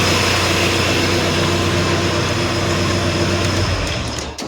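Volkswagen AP 1.8 engine running in a Santana, a loud, steady low rumble with a constant hum and roar that carries on throughout, easing off slightly at the very end.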